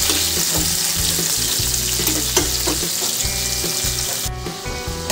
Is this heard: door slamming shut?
no